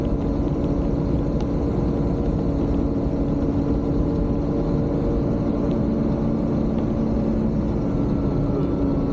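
A snowcat engine runs under load, giving a loud, close, steady low rumble that holds at a constant level throughout with no talking.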